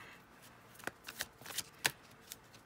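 A deck of tarot cards is shuffled in soft, uneven riffles and flicks, fairly close and quiet, with a few sharper snaps standing out over a faint background.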